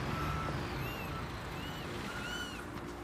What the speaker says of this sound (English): that's roughly where we'll park the truck